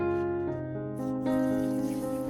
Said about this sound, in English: I used a gentle spray, rinsing the entire stem, leaves, and roots to wash away any remaining mold, bacteria, and dirt.